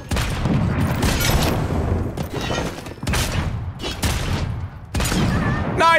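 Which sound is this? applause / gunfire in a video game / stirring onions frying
gunfire in a video game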